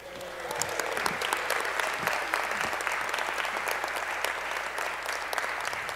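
Sustained applause fills a legislative chamber during a representative's farewell address, a dense wash of many hands clapping that swells after a brief voice at the start and holds steady throughout.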